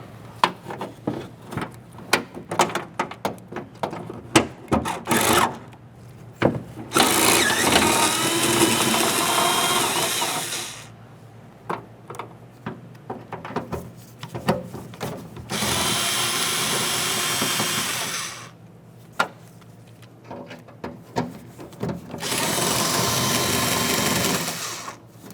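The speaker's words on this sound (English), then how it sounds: "Now we'll continue on with removing 4 mounting nuts." A power tool whirs in several long bursts, removing 10mm mounting nuts from a 2012–2018 Nissan Altima, with clanks and handling noises between runs.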